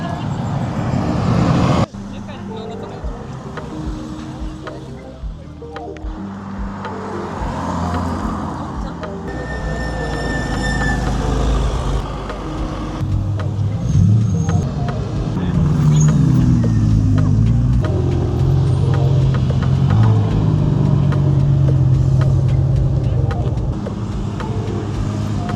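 A bus in a convoy of cars at a car meet passes with a low engine drone and road noise that builds and stays loud, while people talk throughout.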